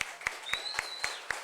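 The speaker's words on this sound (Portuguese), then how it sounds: "Vamos aplaudir Jesus pelo Ministério de Louvor?" A church congregation at a communion service claps in a steady, even rhythm, about four claps a second, moderately close, over a faint sustained tone.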